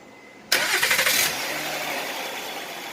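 A 2011 Honda Pilot 3.5L engine cranks briefly and catches after an oil change, then settles into a steady idle that continues to the end, fairly close.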